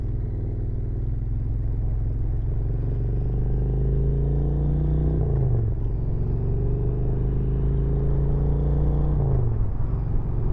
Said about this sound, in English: When you pull that clutch in and let off that throttle a little bit, it's like, it just growls